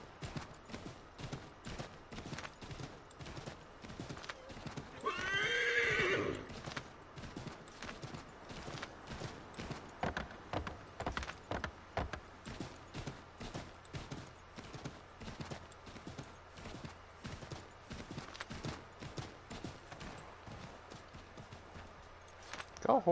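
Rapid, steady hoofbeats of a horse galloping in the game Assassin's Creed 3 run throughout, with a brief neigh near the start, moderately close and with no voices.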